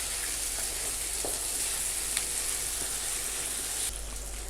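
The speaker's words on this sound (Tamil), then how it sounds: "இப்போ நம்ம இதை ஒரு வாட்டி நல்லா மிக்ஸ் பண்ணி 2 to 3 minutes ஆயிலில் நல்லா ஃப்ரை பண்ணி எடுத்துக்கணும்" Raw banana pieces fry in hot oil over medium heat, giving a steady, dense sizzle that carries alone and unbroken throughout, with a few faint ticks and a slight change in tone near the end.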